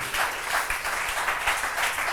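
A church congregation applauds, a dense, fairly soft patter of many hands clapping with slight rhythmic swells, brief and without clear speech.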